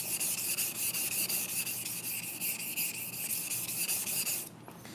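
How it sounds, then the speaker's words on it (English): A kitchen knife blade is thinned at a low angle on a sharpening stone, giving steady, close, rhythmic rasping strokes that repeat evenly and stop abruptly at the end. "So here we are, doing all the same kinds of things we would do for sharpening, just at a much lower angle."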